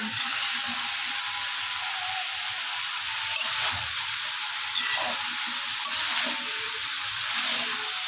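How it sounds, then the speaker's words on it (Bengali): A Bengali home cook's fish curry is stirred in a cooking pot, giving a steady bright sizzle with occasional scraping strokes throughout, close and moderately loud. "এবার একটু নাড়া দিয়ে দাও, না হয়তো নিচে লেগে যাবে"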